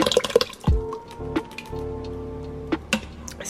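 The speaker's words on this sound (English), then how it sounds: "Now I'm adding a little bit of water, about a 1/2 cup." Water splashes and sizzles as about half a cup is poured into a pan of browned meat, a few sharp drips and spatters opening into a lingering bubbling hiss, close up with no talking.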